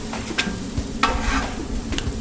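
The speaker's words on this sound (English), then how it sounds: "Once you see the tortillas bubble up like that, I'm gonna go ahead and give it a flip." Corn tortilla heating in a pan, soft steady sizzle throughout with a few brief scraping and clacking touches as it is handled and flipped, close and moderately loud.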